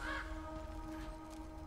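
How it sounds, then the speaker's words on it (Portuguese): Crows cawing in the video game God of War Ragnarok, a harsh call standing out at the start over a steady droning game ambience that continues throughout. "Mais corvos."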